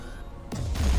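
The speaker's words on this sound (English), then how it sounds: "That was also Avitus's plasma cannon." A plasma cannon fires in the video game Warhammer 40,000: Dawn of War 2, a short, heavy booming blast with a rumbling low tail over faint battle noise.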